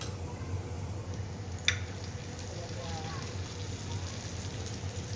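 Kolim fish fritters sizzle and fry in a pan as they are flipped over, a soft continuous crackle with one sharp scrape or tap of the spoon early on.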